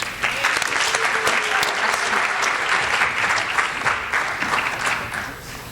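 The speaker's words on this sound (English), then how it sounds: "if we could just give them a round of applause" A high school audience at a Hispanic Heritage Month celebration applauds students coming on stage for poetry readings, loud, dense clapping that swells and then begins to taper off near the end.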